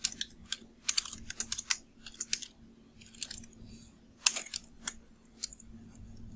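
Typing on a computer keyboard, close and fairly quiet, with quick irregular clusters of crisp key clicks separated by short pauses over a faint steady hum.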